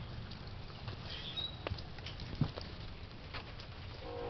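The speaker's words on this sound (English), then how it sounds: "Probably hear the rain on the roof" Soft, steady patter of rain on a greenhouse roof with scattered light taps and drips, quiet and continuous, no talking.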